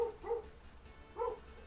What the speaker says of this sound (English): dog's barking outside for some reason.